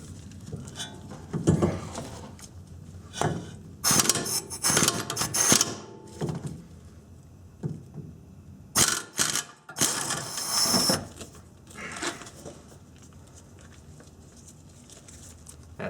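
An impact wrench hammers out the brake caliper bracket bolts on a 1990-1997 Honda Accord, working through a flex joint in tight quarters, firing in two sharp rattling bursts between quieter clanks of tools and parts.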